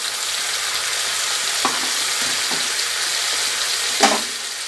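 Chopped tomato and onion-garlic-ginger paste fry in a pan, a constant loud sizzle with a few spatula scrapes and a sharp clatter near the end.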